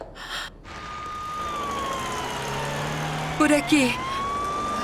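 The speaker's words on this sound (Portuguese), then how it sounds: "Chame uma ambulância." A wailing ambulance siren sweeps slowly up and down over steady traffic rumble, loud and fairly close, with brief voices speaking near the start and toward the end.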